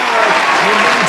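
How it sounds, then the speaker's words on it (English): Dense, loud applause fills the whole short stretch, steady clapping from a gathered group with voices mixed in. "momentous round of applause there."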